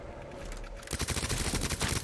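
Submachine gun fire during a Resident Evil 2 boss fight, a loud rapid burst of rattling shots that starts abruptly after a quieter lead-in and continues in a dense rhythmic stream, with no talk.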